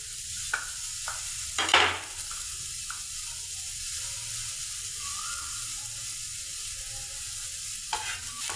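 Tomato and masala for a paneer curry roast in a pan, giving a steady, soft sizzle with a few scattered stirring scrapes and taps, close by, with no talking.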